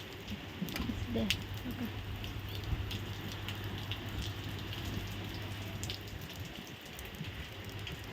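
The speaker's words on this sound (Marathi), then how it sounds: "छान असा पाऊस चांगला पडला" Steady rain falling, a continuous close hiss with scattered drips and a low hum beneath, while a voice speaks briefly near the start.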